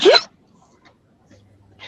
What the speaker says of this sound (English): I got the hiccups.